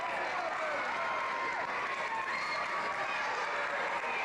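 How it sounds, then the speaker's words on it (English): A wrestling arena crowd roars and applauds in a steady, dense wash of cheering and clapping, sustained at moderate loudness throughout. "And the crowd loves it."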